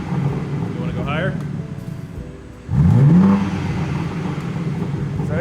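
A BMW G80 M3 fitted with an AWE catback exhaust and mid pipe revs in quick blips, the second rise louder and sweeping upward, while people talk nearby over a steady background hum.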